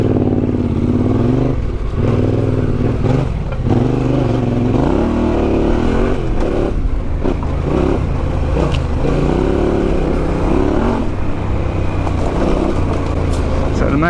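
Yamaha Tenere 700 climbing a trail in first gear, its engine loud and close with rising and falling revs and rough clattering over the terrain, a voice talking over the motor.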